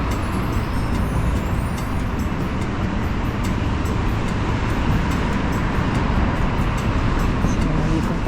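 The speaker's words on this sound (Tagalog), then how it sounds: "dami na sasakyan, maingay na ang paligid" Busy downtown road traffic in Saskatoon, Canada rumbles continuously with a loud, dense roar of passing vehicles and a brief air-brake hiss near the start.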